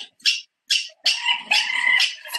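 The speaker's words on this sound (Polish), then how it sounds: "I tutaj mam dźwięk pisklaka." An Arctic seabird chick gives a few short, shrill cheeping calls followed by a longer run of insistent peeps, close and clear, with adult birds faintly in the background.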